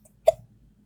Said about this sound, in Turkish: Hıçkırık tuttu beni arkadaşlar.